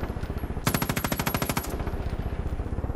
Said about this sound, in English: Who the fuck is shooting at us?